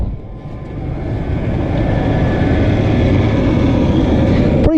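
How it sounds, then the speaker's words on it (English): A 1998 Chevy Astro van engine cranks and catches, then settles into a steady low idle rumble that builds slightly and holds loud and close, with no talking over it. "Let's crank her back up. I mean, look, it fires right up."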